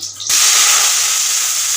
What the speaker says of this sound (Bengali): এবার দেখো এখানে একটু তেল দিয়ে দেওয়া হচ্ছে সর্ষের তেল ব্যবহার করছি আমরা